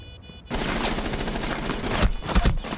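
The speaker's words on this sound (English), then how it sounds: "Keep it, shooting at him. Keep shooting at him." Sustained rapid gunfire in Rainbow Six Siege, a dense volley of automatic shots starting abruptly after a short quiet moment and continuing loud and close, with heavier bursts near the end.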